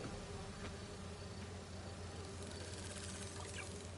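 Steady, faint buzzing of bee wolf wasps in the Marvel's Spider-Man 2 game, a continuous insect drone with no talking.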